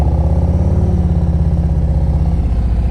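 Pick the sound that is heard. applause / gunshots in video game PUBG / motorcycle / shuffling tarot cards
motorcycle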